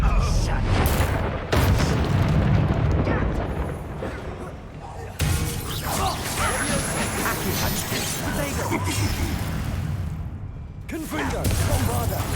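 Spell blasts from the Confringo and Bombarda spells in Hogwarts Legacy boom and crackle in heavy, repeated explosions with rumbling debris. A voice is briefly heard amid the blasts.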